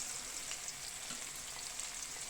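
Onion fries with bell pepper in a pan, giving a soft, steady sizzle with faint crackles throughout, fairly quiet and close, with no voices.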